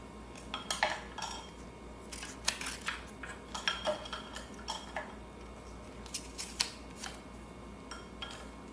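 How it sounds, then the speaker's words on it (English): Light wooden clacks and taps as small wooden cutlery is picked up and set down, irregular and close, in a quiet room. "I have all these little silverware, wooden silverware to stick inside of here"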